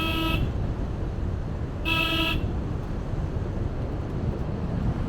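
A vehicle on a narrow mountain road in Uttarakhand sounds two short, loud horn blasts about two seconds apart, over steady wind and road rumble.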